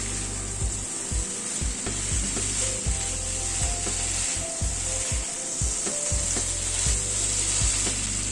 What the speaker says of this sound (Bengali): গ্যাসের ফ্লেমটাকে মিডিয়ামে রেখে এভাবে ধীরে ধীরে সয়াবিনটাকে একটুখানি মিনিট 3-4 সময় ধরে কষিয়ে নেব।